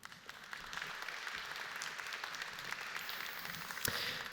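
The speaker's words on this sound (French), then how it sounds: "On les applaudit, s'il vous plaît." Applause from a conference audience at a tech summit as guests come on stage, a broad, steady wash of clapping heard at moderate distance with one sharper clap near the end.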